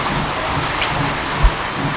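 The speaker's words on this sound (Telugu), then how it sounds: "వర్షం మస్తు పడుతుంది." Heavy rain pours down in a dense, steady hiss with one brief low thump partway through.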